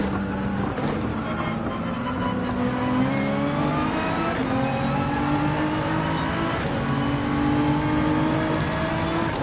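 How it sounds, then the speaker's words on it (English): Race car in the video game Gran Turismo 7 driving steadily through an uphill track turn, its engine droning and shifting pitch continuously, loud and close throughout with no pauses. "can you hear the car?"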